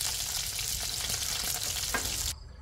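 Fish fries in a pan with a steady, loud, crackling sizzle close up that cuts off abruptly near the end.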